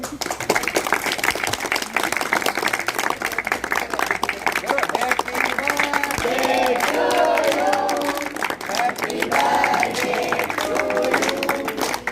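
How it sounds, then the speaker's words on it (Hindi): Clapping and a murmuring crowd at a school birthday celebration for a staff member, steady and fairly close, with voices talking over it throughout. "जोरदार तालियां।"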